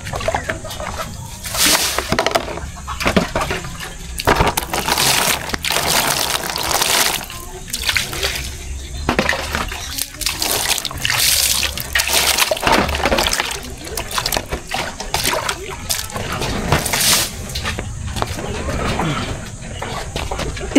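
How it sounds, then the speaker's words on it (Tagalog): Water dumped out and splashing during cooking of a long eel, repeated loud sloshing splashes and pours in an outdoor setting, with people talking over it throughout. "Tapon na natin tubig."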